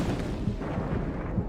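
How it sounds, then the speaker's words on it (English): An explosion blast from documentary film footage rolls out as a dense, loud, rumbling roar, sustained and unbroken across the whole moment with heavy low-end weight. "This film shows what happens during an explosion."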